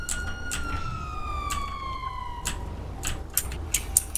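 A police car siren wails with repeated falling tones and sharp yelp bursts, moderately distant over a low traffic rumble.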